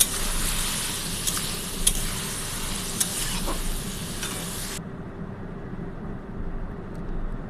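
Poppy seed paste being stirred into a vegetarian greens and stalk dish in a hot pan on a gas stove, a steady loud sizzle with scraping stirs that cuts off abruptly partway, leaving quiet room tone.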